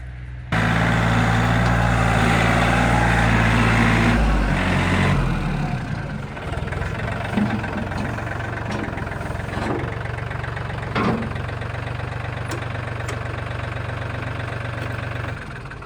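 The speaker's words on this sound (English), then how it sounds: "I hear Ted bringing the tractor down" A loud tractor engine running steadily for the whole stretch, a deep rumbling drone with occasional knocks and clanks, starting very close and easing slightly after a few seconds.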